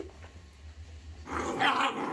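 Seven-week-old puppies growl while playing tug of war, a low rumbling growl swelling into louder, close snarling in the second half.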